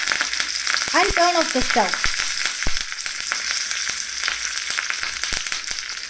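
Curry leaves and cumin seeds fry in hot oil with a steady crackling sizzle, joined by a few scraping stirs; a voice speaks briefly partway through.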